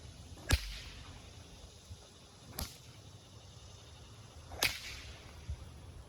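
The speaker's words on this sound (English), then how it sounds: "I have to be careful not to hit him with the whip, because it'll hurt." A horse whip cracks three times near a horse outdoors, each a sharp snapping crack spaced about two seconds apart over quiet background noise.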